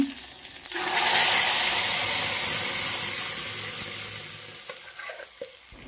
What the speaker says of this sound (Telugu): మనం ఉడికించి పెట్టుకున్న పప్పు తాలింపులో పోసుకోవడమే